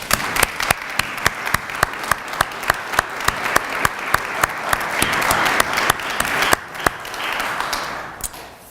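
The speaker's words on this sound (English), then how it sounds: "I think it's appropriate if we give Win a round of applause" An audience at a clay and glass arts awards ceremony applauds steadily, with a few loud, distinct claps standing out over the dense clapping throughout.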